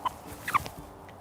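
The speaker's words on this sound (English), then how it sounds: "This is one of my favorite chickens." A pet hen on a West Texas ranch gives a few short, sharp clucks, close and fairly quiet, with brief pauses between calls.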